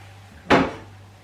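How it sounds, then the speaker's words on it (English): A frying pan is taken out of a kitchen cupboard with one short, close metallic clatter that fades quickly, in an otherwise quiet room. "So let me just get my pan."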